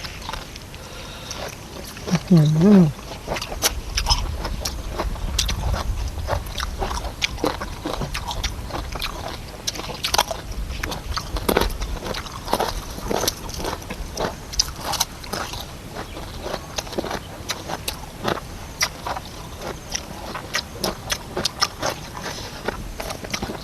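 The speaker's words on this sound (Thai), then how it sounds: "เคี้ยวมันค่ะกรึบกรอบกรึบกรอบอร่อย" Someone eats crunchy Thai tam sabai nang papaya salad with fresh vegetables, close to the mic. Steady, rapid crisp bites and chewing crunches continue throughout.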